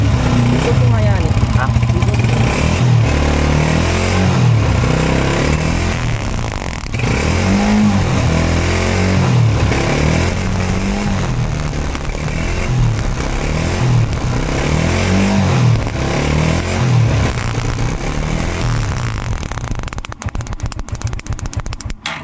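Honda TMX 125 Alpha motorcycle engine fitted with a new high-performance ignition coil, running loud and close with a steady throbbing idle and repeated revs, and someone speaking over it.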